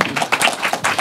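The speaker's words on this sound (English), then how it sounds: "You deserve a round of applause." An audience at a midwifery scope-of-practice advisory committee meeting breaks into a round of applause, a steady, dense patter of many hands clapping close by, sustained for the full second with slight swells.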